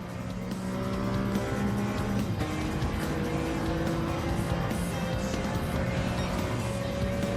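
A car in the Gran Turismo racing game accelerates up to speed, its engine a steady, loud drone that rises in pitch through the gears, heard from a first-person view with no talking.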